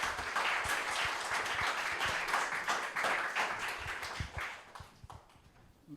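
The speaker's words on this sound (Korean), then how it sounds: "우리 부장 선생님 나오실 때 큰 박수로 환영해 주시기 바랍니다." Congregation at a church youth-department worship service held with parents applauds to welcome a speaker, a steady wash of many hands clapping that holds fairly loud and then thins out and fades over the final seconds.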